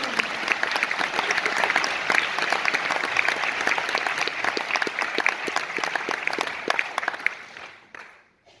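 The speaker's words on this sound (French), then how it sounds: "Applaudissez, Patrick." A concert audience applauds steadily for Patrick, a dense sustained wall of clapping that holds for about seven and a half seconds before tapering off into silence.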